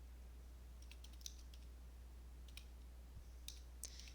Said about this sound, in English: I can type that into a calculator really quick